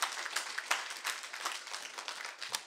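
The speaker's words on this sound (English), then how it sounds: "Let's give Miss Noel a hand clap" An audience at a church gathering claps for a birthday, with uneven rapid hand claps from a small crowd rising and falling in bursts over a few seconds.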